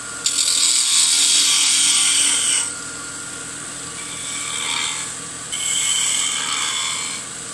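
A wooden cat head magic wand being shaped on a woodturning lathe, the chisel cutting downhill with a loud, bright, raspy whir in long continuous passes that briefly drop off and resume, no talk.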